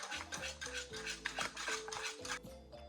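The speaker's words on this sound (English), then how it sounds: "Add the mascarpone and mix until smooth" A utensil stirs mascarpone in a bowl for a no-bake strawberry vanilla cake, producing quiet repeated scraping and clinking strokes in a steady rhythm.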